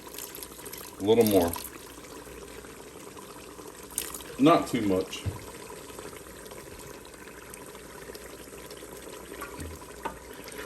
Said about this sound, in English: One last step, we're gonna splash it with a little orange juice.